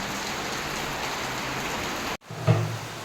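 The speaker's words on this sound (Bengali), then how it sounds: "বৃষ্টির পানি পড়ছে তো বৃষ্টির পানি পড়ছে" Heavy rain pours down in a steady, dense hiss, then cuts off abruptly and resumes with a low thump and softer patter.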